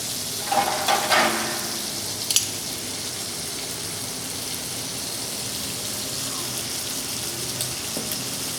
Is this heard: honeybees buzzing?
no